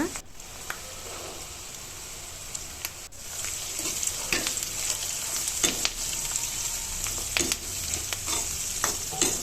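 Green peas with turmeric fry in a pan for a vangibath, giving a steady close sizzle with intermittent stirring scrapes and taps, and a voice speaks briefly over the cooking.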